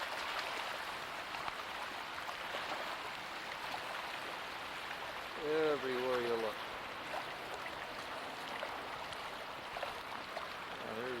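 Creek water runs steadily at a pink salmon spawning stream in Alaska, a continuous broad rush, with someone speaking briefly over the flow partway through.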